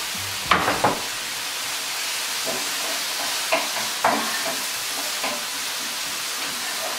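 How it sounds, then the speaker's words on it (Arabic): Ingredients for Chinese-style chicken noodles stir-fry in hot oil with a constant hissing sizzle, broken by a few sharp clatters of stirring or tossing, close and with no talk. "نسحرهم شوية في الزيت"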